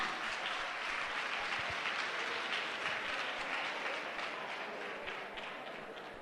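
A church congregation applauding to acclaim Jesus, a dense, steady wash of many hands clapping, fairly distant and sustained, tapering slightly toward the end with no clear speech.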